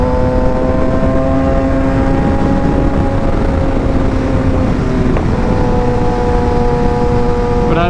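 A motorcycle rolling down a road with a steady, loud engine drone and wind noise, briefly dipping around a shift before settling back into a constant hum.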